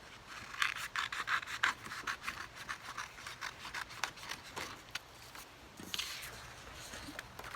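Scissors snip through paper for a cardinal and birch tree craft painting, a run of close, dry rasping cuts in quick uneven strokes, with no talking.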